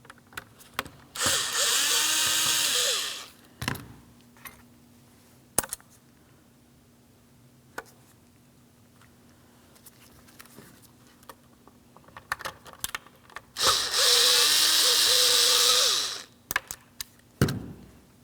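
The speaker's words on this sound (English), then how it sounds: "We can start removing our 4 Phillips head screws holding this in place." Power drill backing out Phillips head screws from a 2006-2010 Hyundai Sonata driver side door panel, two sustained whirring bursts a dozen seconds apart, with light clicks and handling taps between.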